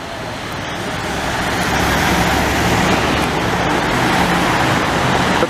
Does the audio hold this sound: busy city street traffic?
yes